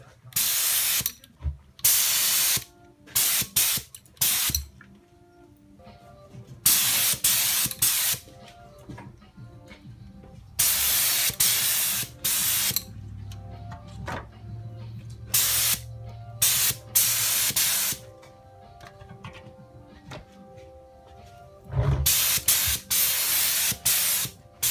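A spray gun lays a coat of paint on car bodywork in repeated loud hissing bursts, each lasting a second or two, with quieter pauses between passes.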